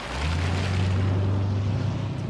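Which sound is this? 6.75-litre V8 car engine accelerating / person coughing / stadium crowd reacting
6.75-litre V8 car engine accelerating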